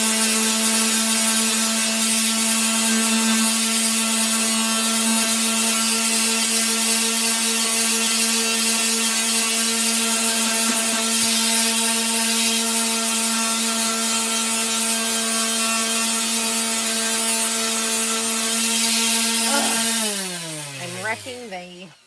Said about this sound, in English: We might as well go with the sander and see if that'll help.